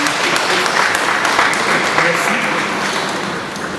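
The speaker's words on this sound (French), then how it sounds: "Nous pouvons donner des acclamations à Maman Marie-Claire Ngilama." Loud, dense applause from a congregation at a funeral service, honouring a godmother, a close steady clatter of many hands with voices mixed in, easing slightly toward the end.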